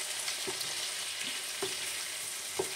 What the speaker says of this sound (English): I like to fry the paprika